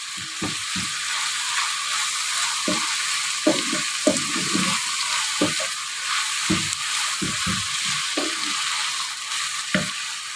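Ground meat seasoned with ground cardamom, cooking for macaroni béchamel, sizzles steadily in a pan, with frequent sharp pops and crackles over a constant hiss, close up and without voices.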